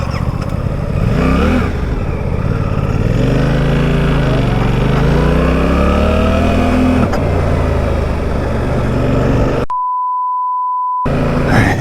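Suzuki GSX-8R motorcycle, brand new, engine droning steadily while riding with rising and falling revs and gear changes, close and loud throughout, cut briefly by a steady electronic beep tone near the end.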